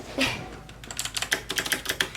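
Rapid keystrokes clatter on an Aukey mechanical gaming keyboard with RGB backlighting, a fairly quiet string of close, irregular clicks following one soft opening tap, with no talking.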